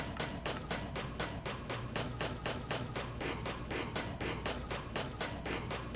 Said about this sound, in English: It takes 36 seconds to bore through a wall.